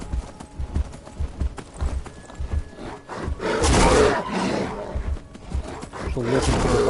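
Hooves of a sprinting horse in a video game clop in quick rhythm, with brief roaring animal bursts and game noise layered over them, fairly loud and close.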